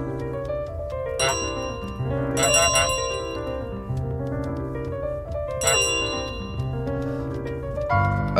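A bell rings repeatedly in Untitled Goose Game, bright metallic dings set against a dense, continuous bed of game music and background sound, with several clear strikes across the stretch.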